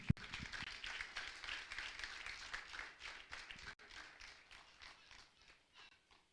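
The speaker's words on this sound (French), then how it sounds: "On nous applaudit yon dans moment ça" A church congregation applauds in a burst of dense clapping that thins out and fades over several seconds, heard at moderate distance in a reverberant hall.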